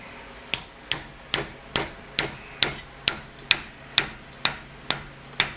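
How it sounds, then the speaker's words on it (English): Hammer striking metal while fabricating a hot rod fender, a dozen crisp ringing taps in an even rhythm, each with a short metallic decay, close and clear without speech. "I'm using the hammer, but I'm not hammering at the vise."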